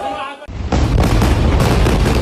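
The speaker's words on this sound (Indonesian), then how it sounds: "Suara ledakan bertubi-tubi" Repeated explosions during an attack near the Indonesian Hospital, a loud, roaring wall of blasts that builds into a continuous, rumbling barrage.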